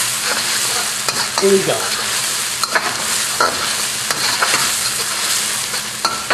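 Aromatics and sambal stir-frying in a hot wok for a Vietnamese wok-tossed eel dish, a steady loud sizzle with scraping stirs and a few clanks, a brief voice cutting in once.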